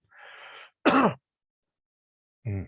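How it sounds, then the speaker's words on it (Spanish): A single close sneeze: a soft breathy intake, then a sharp voiced burst, and after a pause a short vocal sound, all in otherwise quiet surroundings. "voy a estornudar"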